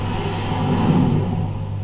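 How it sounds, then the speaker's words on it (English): Engines of the Warhawk jet plane start up and roar steadily as it takes off vertically through an opened hangar roof, a loud continuous rumble that swells in the middle and holds without any voices. "he started the great engines of the Warhawk"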